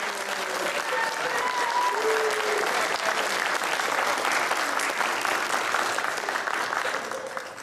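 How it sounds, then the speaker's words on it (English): An audience at a Cub Scout pack meeting gives a big, sustained round of applause, loud and even for several seconds with faint voices mixed in before it tapers off. "Big round of applause for our side."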